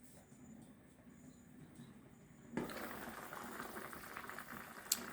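Pot of Jamaican brown stew chicken neck cooking: a faint bubbling simmer that grows louder and busier halfway through, with a soft click near the end.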